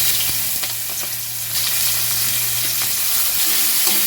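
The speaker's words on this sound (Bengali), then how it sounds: "পেঁয়াজ কুচি দিয়ে আমি দু মিনিট মতো নেড়ে চেড়ে একটু ভেজে নেব" Chopped onions frying in oil with black cumin and a dried chilli, stirred in the pan: a continuous close sizzle broken by scattered scraping and spoon clicks.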